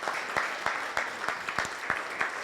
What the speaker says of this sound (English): Can we give Father Juan another round of applause?